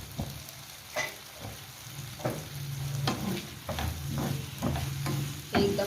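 Potatoes and eggs with spices, including ground coriander and cumin, frying in a pan while a spoon stirs them, with repeated scraping strokes over a constant close sizzle.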